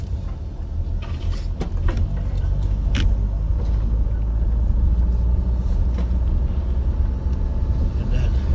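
A vehicle with a cradle drives back onto weighing scales at a green waste site, giving a steady close engine rumble throughout, with a few short sharp clunks and hissing bursts near the start.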